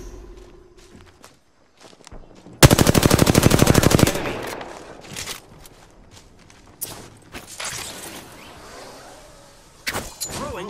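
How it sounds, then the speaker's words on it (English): Video game gunfire with a loud, rapid burst of automatic fire lasting over a second, followed by scattered single shots, footsteps and clatter amid in-game action. "The enemies are shooting at me."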